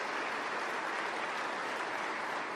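A crowd at a political announcement event for electric vehicles gives a sustained round of applause, steady and dense throughout, heard at a moderate distance with no one speaking.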